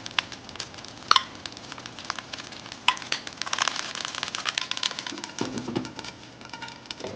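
Davangere benne dosa fries in butter or oil on a hot griddle, a soft, steady crackling sizzle with scattered sharp pops and spits that grows a little busier partway through, with no voices.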